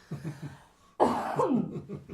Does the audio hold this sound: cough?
yes